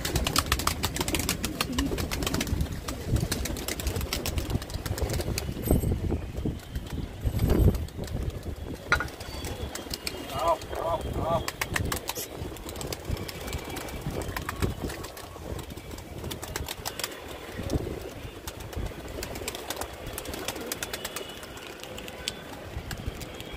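Pigeons coo and flutter while bathing in water poured out for them, a steady wash of splashing and bird sounds running throughout with a few brief louder bursts.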